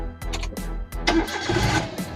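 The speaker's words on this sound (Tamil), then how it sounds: "வண்டி இன்ஜின் ஸ்டார்ட் பண்ணி பார்த்தலாங்களா?" A used car's engine cranks briefly and catches, then settles into a steady mid-pitched running hum, close and fairly loud with no other sounds over it.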